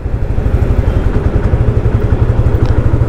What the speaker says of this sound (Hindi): Third gear, does the bike go ahead?